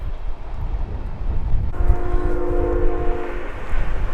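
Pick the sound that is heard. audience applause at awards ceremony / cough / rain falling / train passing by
train passing by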